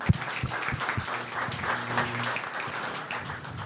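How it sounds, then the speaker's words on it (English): Audience applause at a pitching event in York, a moderate burst of clapping that holds steady for several seconds, with a loud clap at the start and a faint tone in the background. "So big round of applause for all of you for making the way here."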